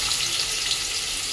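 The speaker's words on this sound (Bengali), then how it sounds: "আলুটা ভাজবো তো সেই জন্য দেখো তেলের মধ্যে আমি একটু নুনও দিয়ে দিলাম।" Potatoes fry in hot oil with a little salt added, a steady, close and loud crackling sizzle with no pauses.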